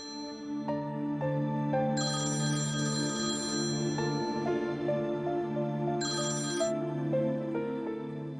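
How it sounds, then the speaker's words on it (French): A telephone ringtone plays a loud, steady melodic tone pattern that repeats through the whole stretch, with no one speaking over it. "Pourva, Oui, décroche le téléphone."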